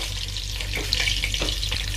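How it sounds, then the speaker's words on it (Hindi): Two or three pieces of finely chopped garlic sizzling in hot butter in a pan, a steady close crackle and hiss with faint stirring scrapes, and no talking. "मक्खन गर्म हो चुका है जी, इसमें मैं लहसुन के 2-3 पीस छोटे छोटे काटे उनको डाल रहा हूँ।"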